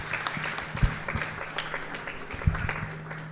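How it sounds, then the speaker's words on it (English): Audience applause at a Krishna Mandir Sunday service, a steady wash of many hands clapping in a hall with a few louder individual claps standing out, no talk over it. "Please give her a round of applause."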